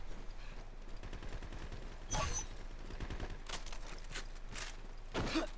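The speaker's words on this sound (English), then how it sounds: "Alright, now it's time for the shotgun," Shotgun blasts in the video game Lost Planet 2, a few sharp scattered shots over busy background game sounds, with one louder burst near the start and another near the end.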